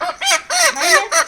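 A chicken clucks several times in quick succession, close and loud, with short squawking calls rising and falling.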